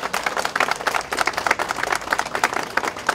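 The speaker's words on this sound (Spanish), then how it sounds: "le demos un fuerte aplauso a mis compañeros diputados" Brisk applause from a small crowd at a protest march, dense overlapping claps holding steady throughout with no voices on top.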